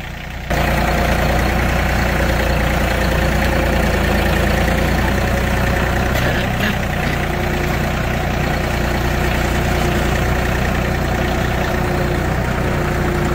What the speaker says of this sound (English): Need to be holding this phone and driving this tractor at the same time.